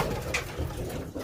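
Pigeons cooing in a loft, a soft low coo rising briefly over a steady hum of the birds, with no talking.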